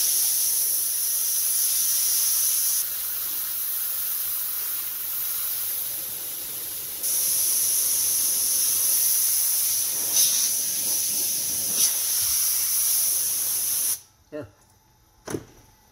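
Compressed air blasts sanding dust off a wooden salad bowl made from 1x4 boards, a loud, steady hiss that runs in long bursts with brief changes in pitch, then cuts off to near silence with a couple of short puffs.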